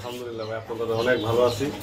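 Soft pigeon cooing, low and throaty, repeating under a steady hum and nearby voices, among long-face pigeons kept for sale.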